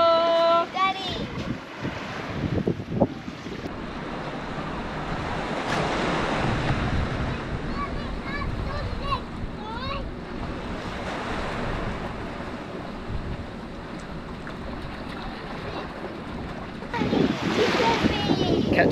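Ocean waves wash and break continuously along the Ningaloo coast in Western Australia, with gusty wind buffeting the microphone throughout and voices talking briefly at the start and end.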